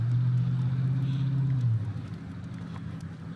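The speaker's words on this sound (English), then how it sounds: "here comes the bus" A school bus rumbles close by with a steady low engine drone that fades and drops in pitch about halfway through as it moves past, leaving quieter background hum.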